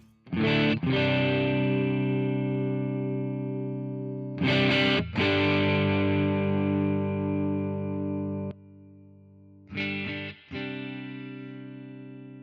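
An electric guitar played through the AmpliTube 5 American Tube 2 amp simulator with the volume cranked and some reverb, ringing distorted chords struck three times, each sustaining for several seconds before cutting off.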